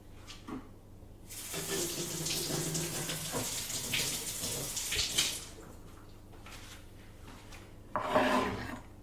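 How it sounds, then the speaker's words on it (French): A courgette is washed under a running kitchen tap, with a burst of splashing water and rubbing that lasts a few seconds, then a short second gush near the end in a quiet kitchen. "je vais rapidement procéder au lavage de ma dernière courgette"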